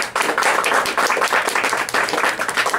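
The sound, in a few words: audience applause for a band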